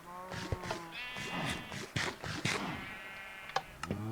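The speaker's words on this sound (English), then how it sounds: "we'll do the same with some sheep over here as well" Sheep in Minecraft Bedrock bleat repeatedly in short, nasal calls that overlap one another, fairly close and clear against a quiet background.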